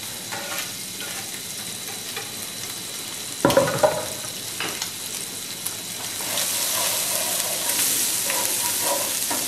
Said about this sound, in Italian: Una girata la pasta, ricordatevi, non abbandonatela. E subito l'aglio e il prezzemolo.